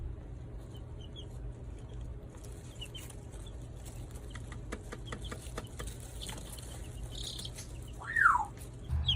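Two-week-old chicks in a DIY brooder give sparse, thin chirps over a steady low hum, with a louder, sharper call near the end.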